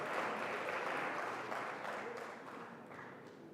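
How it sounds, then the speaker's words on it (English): Steady applause from a crowd at a university student swearing-in ceremony as an associate dean walks up, an even wash of clapping that slowly fades, heard from a little distance. "Let's clap for Associate Dean as she comes up."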